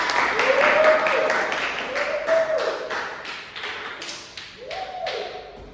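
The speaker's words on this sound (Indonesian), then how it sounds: "tepuk tangan buat kita semua" A school class claps rhythmically together in a classroom, with a steady patter of hands under a loud voice and some sliding chimes.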